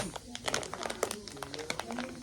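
A Minis blind-bag package is torn and crinkled open up close, with a quick run of crackling plastic rustles and short tears.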